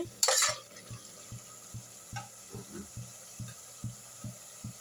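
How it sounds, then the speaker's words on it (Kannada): Masala frying in oil in a pan, with a sharp scrape at the start and then a steady train of regular soft stirring knocks over a faint sizzle, close by, with no voices. "ಇವಾಗ ಮಸಾಲನೂ ಚೆನ್ನಾಗಿ ಫ್ರೈ ಆಗಿದೆ ಎಣ್ಣೆ ಸೈಡೆಲ್ಲ ಎಣ್ಣೆ ಬಿಡ್ತಾ ಇದೆ"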